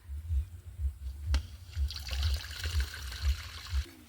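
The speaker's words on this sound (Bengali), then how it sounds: "এবার সেই জলটাকে একটা মুখে নেট বেঁধে আর ছেঁকে নেব" Water that has soaked paddy is poured and strained through a net tied over a container, making a close, uneven trickle and splash. Low gurgles pulse throughout, and there is no speech.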